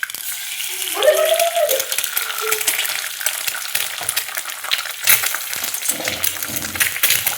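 Oil sizzles and crackles in a pan as it heats for a home-style spicy egg dish, a steady close frying hiss with brief stirring and clinking of utensils.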